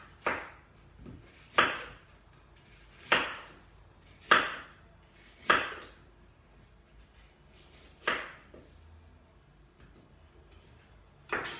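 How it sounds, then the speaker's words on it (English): A knife slicing an apple into pieces on a board, eight or so crisp chopping strokes spaced about a second apart, close and clear with quiet pauses between cuts. "I'll then slice my apple"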